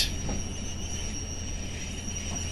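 A Class 142 Pacer train rolls steadily close by as it arrives at Croston station, with a constant rumble and a thin, high wheel squeal running throughout; no voices.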